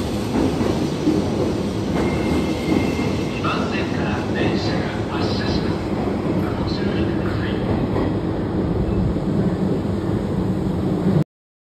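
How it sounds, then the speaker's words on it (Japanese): A Japanese train pulls away from a station, its low rumble and rolling rail noise building steadily and close, with station ambience and faint voices mixed in before it cuts off. "電車が発車します"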